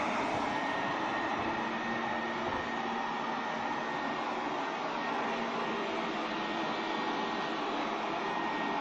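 A LIECTROUX B6009 robot vacuum cleaner in power mode produces a continuous, fairly loud whirring drone with a faint motor whine, steady throughout with no talking.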